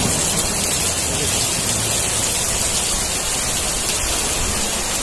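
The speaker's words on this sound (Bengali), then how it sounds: "কি পরিমাণ বৃষ্টি হচ্ছে" Heavy rain pouring down, a dense, loud, unbroken hiss of water with no distinct drops or pauses.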